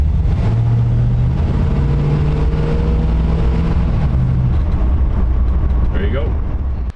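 A 1954 Chevy 210 coupe with a 348 Tri-Power V8 and TH350 transmission drives along, its steady low engine rumble and road noise continuous and loud throughout, with a brief higher whine near the end.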